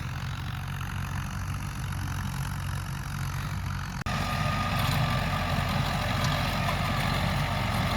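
A tractor engine idles steadily close by on a wheat farm, a low continuous rumble that jumps slightly louder after a brief click midway and then holds an even drone.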